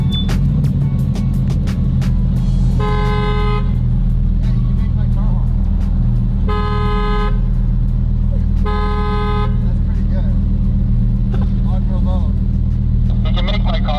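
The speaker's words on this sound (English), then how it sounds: "You can make my car honk." A remote-triggered Lamborghini horn sounds in three loud, sustained toots spaced a few seconds apart over a steady engine and road drone, with talking in the car between them.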